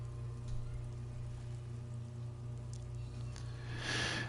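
Rain falls in the video game Disco Elysium as a soft, steady patter over a low humming ambient bed, with a brief louder splash of noise at the very end.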